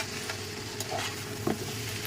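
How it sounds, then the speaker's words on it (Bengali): Tender okra with shrimp fries in oil in a pan on an induction cooktop, a steady close sizzle with a couple of brief scraping stirs. "এটা তেলের উপরে সুন্দরভাবে ভাজা ভাজা করবো"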